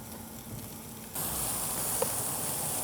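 Homemade breakfast sausage frying in a pan for gravy, a soft hiss that jumps into a louder, steady sizzle partway through, close up with no talking.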